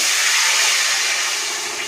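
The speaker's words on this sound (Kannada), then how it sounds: "ಈಗ ನೀರು ಕುದೀತಾ ಇದೆ" Close, steady hissing and rushing, like water boiling hard in a pot, fading slightly toward the end.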